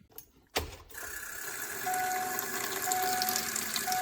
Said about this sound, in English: I open the water drain for the fuel filter, and I'm just going to keep cycling the key so we got fuel coming out of there